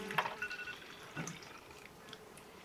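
Film developer is poured back from a processing tank into its container, a short run of trickling and dripping liquid, soft and close with no talk.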